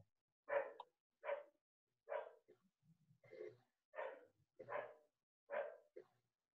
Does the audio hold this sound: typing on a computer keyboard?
no